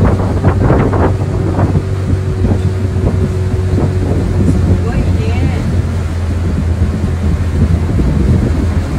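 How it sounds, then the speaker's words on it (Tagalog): Steady engine drone and heavy wind rush from a bangka outrigger boat underway, with brief voices and water splashing early on. "bangka ang sinakyan namin"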